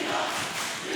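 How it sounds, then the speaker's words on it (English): A high school boys' basketball crowd at Olathe East versus Olathe South cheers loudly in a dense, continuous roar after a free throw. "That gets the crowd excited"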